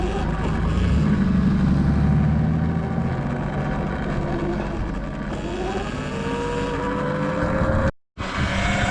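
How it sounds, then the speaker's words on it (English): An old school Porsche drives past, its engine note swelling and sweeping in pitch as it goes by, heard from a rider on an electric dirt bike beside steady road and wind noise. "Old school Porsche."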